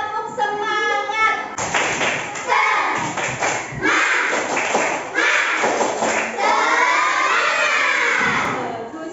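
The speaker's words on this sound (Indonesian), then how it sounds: "Coba sekarang semuanya tepuk semangat." In an Indonesian primary classroom, a class of children performs a rhythmic clapping cheer, with bursts of claps and thumps mixed into loud, excited group shouting and chanting voices throughout.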